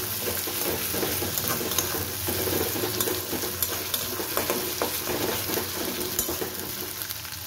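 Onion, garlic and ginger paste frying in a pan, giving a continuous soft sizzle with steady scraping from stirring throughout and no voices.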